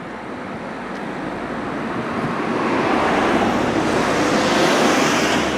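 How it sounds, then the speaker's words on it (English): Busy road traffic near a moated castle in Beaumaris, a steady roar of passing vehicles that gradually grows louder and closer. "Traffic getting very busy here now."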